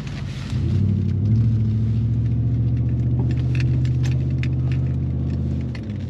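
A 1994 Cadillac Sedan Deville cruises along a road, heard from inside as a steady low engine hum and smooth road rumble with faint rattles and ticks throughout.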